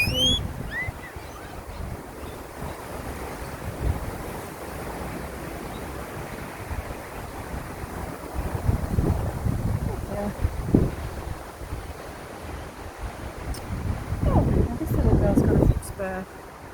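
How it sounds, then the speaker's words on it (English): Steady wind roars and buffets the microphone throughout, rising into stronger gusts near the end, while a voice speaks briefly. "Very windy today. Windy and breezy."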